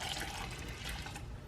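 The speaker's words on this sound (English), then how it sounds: "you're just going to pour your water in and stir it with a spoon" Water pours steadily into a bowl of Café Du Monde beignet mix, a continuous close splashing gush with a few drips, heard on its own.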